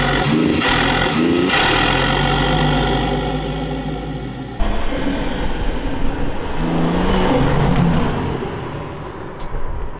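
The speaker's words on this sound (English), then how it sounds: "when you get a bit of boost going through the system and you rev it, the wastegate chatter is phenomenal" A BMW M140/M240 with a Motech Performance intake revs hard, its engine note rising and falling in repeated pulls with turbo wastegate chatter, loud and close with no talking.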